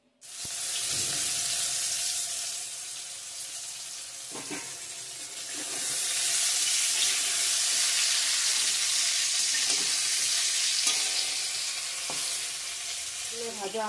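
Pointed gourd (potol) slices fry in a pan with a continuous close sizzle, broken by occasional clinks and scrapes of a spatula turning the pieces, no speech.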